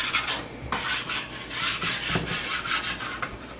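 Pastry scraper dragged around the edge of a pie, giving repeated short scraping rubs at close range with brief pauses between strokes.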